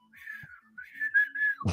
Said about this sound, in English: I whistled.